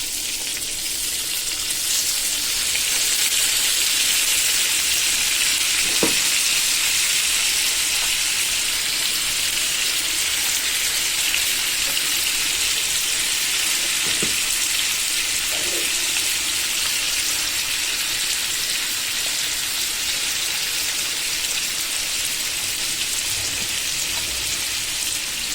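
Tilapia fries in a pan with onion, garlic, green chili, coriander and tomato masala, giving a steady, even sizzle like light rain, with a few faint clicks and no talking.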